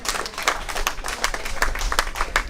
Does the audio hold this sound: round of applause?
yes